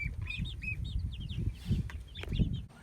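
Small young chicks on a homestead chirp in quick, high, repeated peeps, close by, over a steady low rumble of background noise, with a few louder scuffs near the end.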